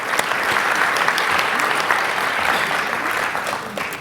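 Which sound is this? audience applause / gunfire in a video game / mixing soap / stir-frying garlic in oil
audience applause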